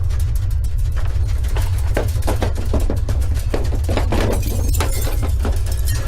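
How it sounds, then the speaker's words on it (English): Glass shatters repeatedly during an earthquake in sharp, loud crashes over a constant low rumble, the breaking bursts coming in quick irregular succession. "Do not be surprised by the noise from broken glass, creaking walls, or falling objects."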